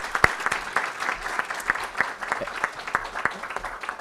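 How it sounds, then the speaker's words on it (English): Applause for five board members at a December board meeting, a modest group clapping with distinct, rhythmic individual claps standing out, over light room murmur. "one more big round of applause for all 5 board members"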